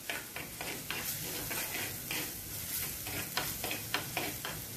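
Crushed ginger and garlic are sautéed in a pan for a beef ghee roast, giving a steady soft sizzle broken by regular scraping stir strokes close by, with no talking.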